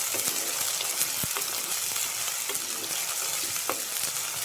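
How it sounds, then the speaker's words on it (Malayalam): Onions frying in a pan along with other added ingredients, giving a loud, dense, continuous sizzle broken by occasional scrapes and taps of a stirring spoon. "ഇത്രയും സാധനങ്ങൾ ഇട്ട ശേഷം ഒന്ന് ഇളക്കാം. സവോള നന്നായി മൂത്ത് വരണം."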